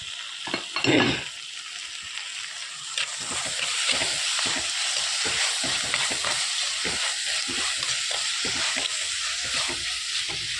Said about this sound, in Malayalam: തക്കാളി ചേർത്ത് നന്നായിട്ട് മിക്സ് ചെയ്ത് നമുക്ക് അടച്ച് വെച്ച് വേവിക്കാം